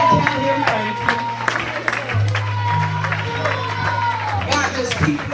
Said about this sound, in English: You might as well clap your hands and tell him thank you.